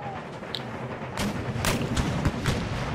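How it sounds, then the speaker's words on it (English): Artillery plunging fire in Empire Total War: a string of deep booming cannon blasts building in the second half, several heavy thuds rolling over a constant battlefield rumble. "We should be able to do plunging fire with any luck."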